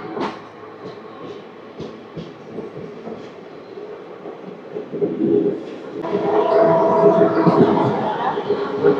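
The 12711 Pinakini Superfast Express runs from Vijayawada toward Chennai, heard from inside a crowded coach: rhythmic wheel clatter over rail joints and a rumble that grows louder and denser, with faint passenger voices beneath.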